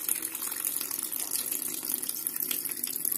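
Water pours and gushes steadily into a small tank filled by a pump, a continuous close, loud splashing rush with no talking.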